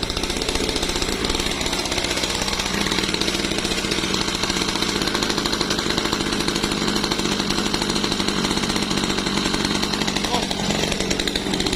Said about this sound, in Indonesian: Nah, ini udah pas putaran mesinnya.